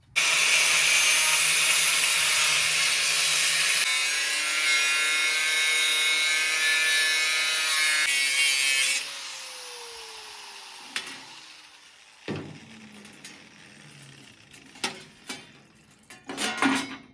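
A power cutting tool shrieks steadily while trimming around the gasket area of a stock Nissan D21 air cleaner, a loud harsh whine that winds down and gives way to scattered clicks and knocks of handling.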